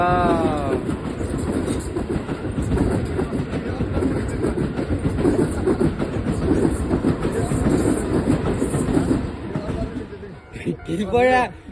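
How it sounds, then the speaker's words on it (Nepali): A train rumbles past up close with a loud, continuous rattle of wheels on the track, and voices can be heard briefly at the start and end. "यसरी रेल आउँछ"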